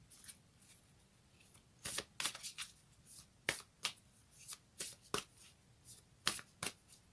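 Tarot cards being shuffled by hand, a series of quiet, crisp riffling snaps and slaps in an irregular rhythm, close and alone.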